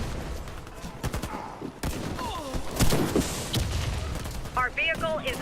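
Game gunfire in the Warface shooter as an escorted tank comes under attack: scattered shots and bursts ring out at mid distance, with a speaking voice partly mixed into the fray.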